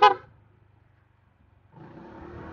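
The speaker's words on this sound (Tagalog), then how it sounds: "may kasalubong tayo, bumubusina rin" An oncoming vehicle's horn sounds once, short and fairly loud, on a road passing a motorcycle rider. It is followed by a low engine drone and then rising road and wind noise.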